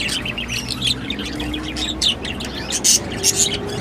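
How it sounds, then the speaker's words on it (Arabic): Canaries and goldfinches sing together in a busy flurry of chirps and warbling trills, close and continuous over a steady background hum. "وطبعا الكناري والحسون بسم الله ما شاء الله صوتهم رائع جدا"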